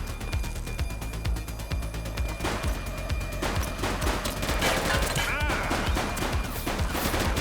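A police shootout in the video game The Precinct: dense rapid gunfire crackles in overlapping bursts with mechanical clicks and sharp impacts, loud and continuous throughout.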